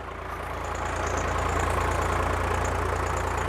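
A tractor engine pulling a disc ridger in a potato field runs with a steady, loud low rumble throughout, a continuous mechanical drone with no talk over it.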